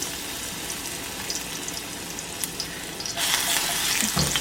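Garlic sizzles and crackles in a hot frying pan while ngombo sautés, a steady close hiss that surges louder near the end as more is added.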